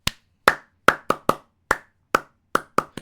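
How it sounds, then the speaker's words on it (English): A single pair of hands claps about ten sharp, close claps in a loose, slightly uneven rhythm, with silence between each one and no voices. "try to get the audience to start clapping"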